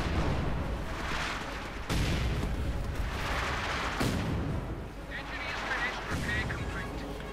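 White phosphorus artillery barrages in the World War II strategy game Company of Heroes 2 boom and crackle loudly in several heavy bursts, under a commentator's continuous talk.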